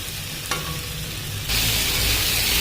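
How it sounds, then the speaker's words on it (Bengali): Potatoes with poppy seed sautéing in a pan give a steady close frying sizzle, with a brief clatter early on. Around halfway the hiss jumps louder and brighter and stays that way to the end. "এই যে ভালো মতো কষিয়ে নিয়েছি"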